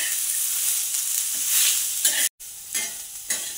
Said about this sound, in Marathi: आता आपण अगोदर कांदा भाजून घेऊया।